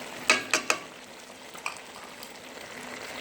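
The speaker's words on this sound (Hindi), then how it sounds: "इसी तरह हिलाते रहना है" Spoon scraping through a panjiri mixture of chuaray (dried dates) in a pan, three sharp clinks close together, then lighter scrapes over a soft sizzling background.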